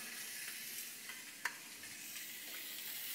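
Butter melting and foaming in a skillet before corn goes in, a soft, even sizzling hiss throughout with one brief clink near the middle, quiet and close.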